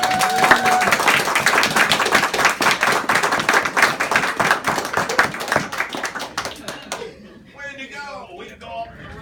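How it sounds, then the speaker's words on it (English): A small gathering in a courtroom applauds after an adoption order is signed. Brisk, rapid clapping from several people runs for about seven seconds and then stops abruptly, leaving faint voices and room sound. "A round of applause and congratulations."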